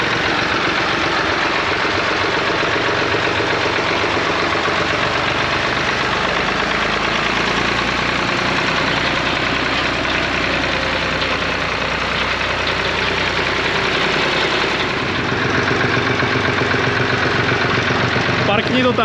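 A tractor engine idles loudly and steadily nearby, its low rumble continuous with a slight change near the end as the throttle is tried, while people talk over it.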